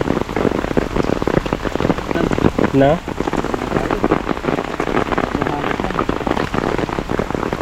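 Heavy rain pounds down beside a river, a dense, loud, continuous patter with sharp drop impacts, while someone briefly speaks under it.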